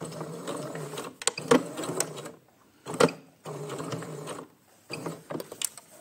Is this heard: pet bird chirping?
no